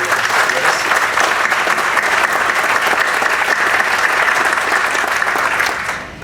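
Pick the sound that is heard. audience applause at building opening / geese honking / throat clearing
audience applause at building opening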